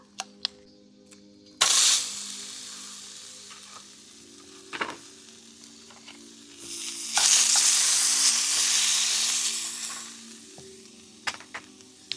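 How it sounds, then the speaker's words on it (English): Wagyu, prawns, mushrooms, aubergine, okra and sausages sizzle on a camping grill by a lake, a steady frying hiss that swells loud in two long bursts, with small clicks and knocks of utensils between them. "Some wagyu here, some prawns, mushrooms, aubergine, okra, and some delicious sausages cooking"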